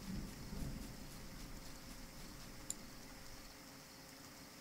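Faint steady rain hisses in the video game Balrum, with a low rumble of thunder early on and a single sharp tick near the middle, all quiet and distant.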